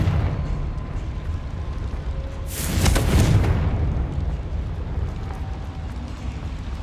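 Confringo spell blast in Hogwarts Legacy: a single booming burst with a crackling, sizzling edge rises out of steady ambient game noise and fades over a couple of seconds.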